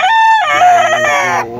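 Loud, close rooster crowing, a single drawn-out harsh cock-a-doodle-doo from a lemon guapo gamefowl rooster on a small poultry farm, rising then wavering before trailing off.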